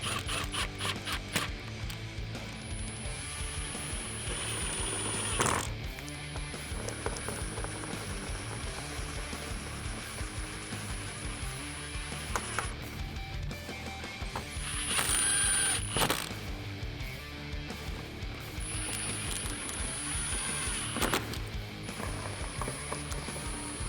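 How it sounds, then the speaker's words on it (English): Ratchet driving 7mm screws back into the inner fender of a 2018-2019 Mustang, with repeated clicking and mechanical rattling in several bursts over a steady low background, fairly quiet and close. "we're gonna be putting our 7mm screws back in"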